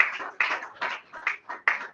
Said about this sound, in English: Yes, a round of applause for Dr. once again.